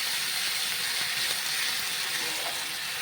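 Tomato paste fries in a pan for a cauliflower and egg curry, giving a steady, even hiss that continues throughout without pauses.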